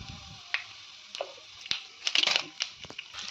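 Cumin and mustard seeds crackle in hot oil in a pan, giving irregular sharp pops and sputters that cluster densely in the second half over a quiet background.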